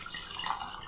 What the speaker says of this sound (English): You got to see the pour.